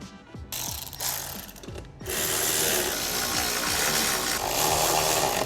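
Ratchet clicking rapidly while tightening screws on a 2024 Toyota Tacoma fog light assembly, short bursts of close mechanical ratcheting followed by a longer continuous run.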